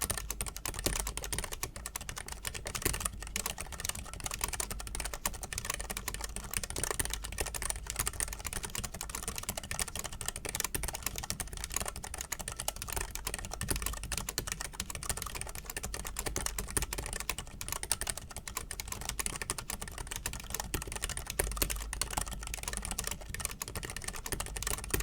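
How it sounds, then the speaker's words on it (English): Steady typing on a stock Keychron keyboard with optical switches, a continuous stream of close, crisp key clicks with occasional heavier spacebar strokes, heard alone without talk. "let's listen to the stock typing test"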